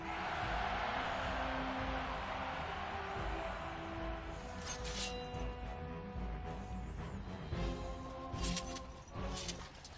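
Crowd noise from a medieval-style tournament in a video game, a broad, steady roar of spectators with scattered shouts and a few sharp clashes near the end, loud and continuous throughout.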